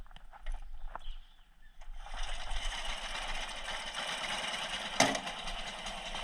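A small ride-on lawnmower engine coughs, catches and settles into a steady, buzzing idle around 1,300 rpm. A sharp knock lands partway through.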